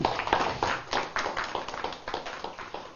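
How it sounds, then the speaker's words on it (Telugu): A crowd at a spiritual meditation organisation's gathering claps in dense, uneven bursts, fairly loud and steady for the whole stretch without fading. "అమ్మ గట్టిగా చప్పట్లు కొడదాం"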